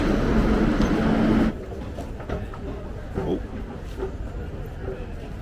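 Subway train rumbling in a Barcelona metro station, loud and steady for the first moment before dropping away, leaving quieter station ambience with people talking.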